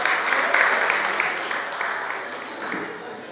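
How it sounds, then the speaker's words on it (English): Warm applause from a crowd at a Yoruba Day celebration, dense clapping that starts strong and gradually thins out, with faint voices mixed in underneath. "Can we please give Adonai a round of applause?"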